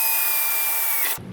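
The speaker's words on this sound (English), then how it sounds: "What we're gonna do is go ahead and drill a small hole in the side of the pipe" A power drill bores a small hole in the side of a plastic pipe, a loud steady high whine that holds for about a second and then cuts off abruptly.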